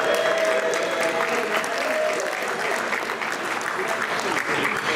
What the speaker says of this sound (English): She brought her own cheering section.